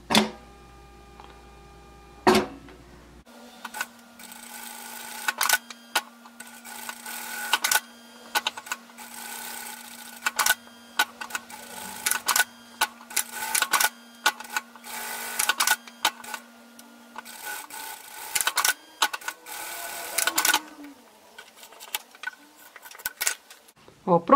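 A domestic sewing machine stitches around a fabric 3D Christmas mask with English eyelet embroidery, running in repeated short bursts separated by pauses and small handling clicks, with a faint steady hum underneath.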